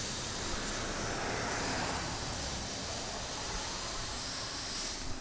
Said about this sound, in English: the car is overheated